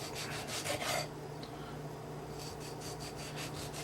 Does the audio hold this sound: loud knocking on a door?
no